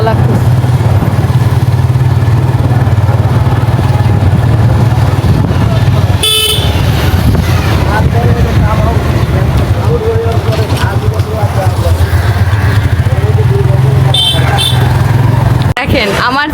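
A motorcycle rides through road traffic at night with a steady engine drone, and horns honk briefly twice, all under continuous talking.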